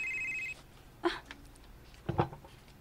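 A telephone rings twice in a quiet room, two short, faint electronic trills about a second apart, following a brief tone at the start.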